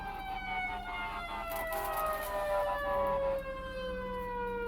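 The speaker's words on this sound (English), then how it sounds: "Two fire trucks and two paramedics." Sirens from passing fire trucks and paramedic vehicles wail steadily, their tones sliding slowly downward as they go by, loud and fairly close over a low traffic rumble.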